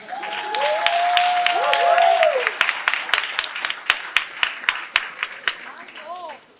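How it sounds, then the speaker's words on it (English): Audience applause at a leadership event, a burst of clapping that thins into scattered distinct claps toward the end, with people talking over it throughout. "Please clap."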